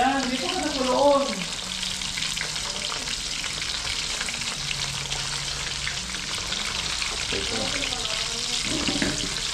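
Food sizzles and crackles steadily in a hot pan, a dense continuous frying hiss lasting throughout, with brief voices at the start and near the end.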